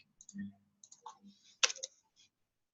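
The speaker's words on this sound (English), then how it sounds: "I'm just going to click on the map real quick." A computer mouse clicking on a map, a few sharp close clicks with a louder cluster near the middle, set in a quiet room.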